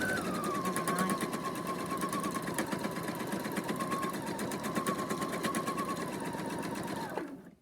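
A sewing machine runs steadily for about seven seconds doing free motion embroidery, a fast, even needle chatter with a faint whine, close and loud, then stops abruptly near the end.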